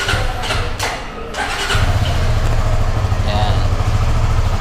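A Suzuki Gixxer 250 motorcycle engine cranks and fires up after a brief starter whir, then settles into a loud, steady, close idle that continues to the end.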